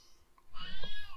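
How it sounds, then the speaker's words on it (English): A cat meows in the State of Decay 2 video game, one short call rising after a quieter stretch, fairly close and clear with soft game ambience underneath. "No, my cat approaches."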